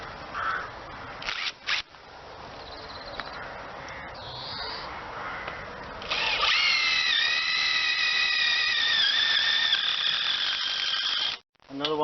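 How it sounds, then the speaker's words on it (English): A power drill drives self-tapping screws into a 9m wide polytunnel frame, giving a sustained rising whine lasting several seconds that starts after a stretch of talking. "And then you put a couple of self-tapper screws in it."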